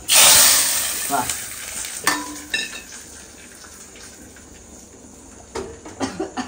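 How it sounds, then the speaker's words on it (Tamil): Oil hisses and crackles loudly as mustard seeds and dried chillies fry, seeds popping, with a few metal clinks of a spoon stirring the pan; the sizzle settles to a softer fry. "கடுகு பொரிதா சும்மா 2 காஞ்ச மிளகாய் போட்டு அப்படியே கிண்டி விடணும்"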